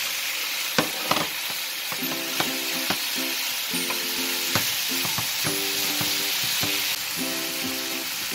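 Beef with peppers and white onions fries in a hot pan for Vietnamese shaking beef, a loud continuous sizzle with frequent utensil clinks and scrapes tapping against the pan throughout.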